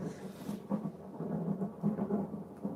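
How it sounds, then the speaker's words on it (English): Low rolling thunder rumbles through a New Hampshire thunderstorm, a steady grumbling roar with a few louder swells and faint rain texture, no voices. "Holy fucking thunderstorm"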